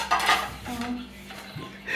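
Dishes and metal utensils clink and clatter as they are handled and set out in a row at home, a few close, bright knocks and scrapes over about two seconds, with no talk.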